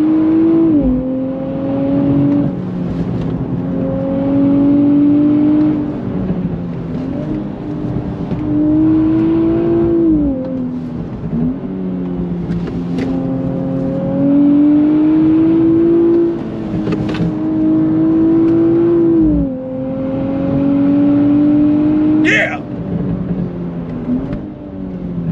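A 2024 Nissan Z NISMO engine revs repeatedly, pitch climbing and dropping through several acceleration pulls, loud and close, with a brief tire chirp near the end.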